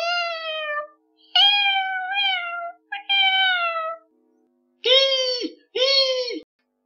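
A cat gives a run of drawn-out meows, three rising-and-falling calls followed after a pause by two shorter, harsher, more strained yowls, loud and close with nothing else behind them.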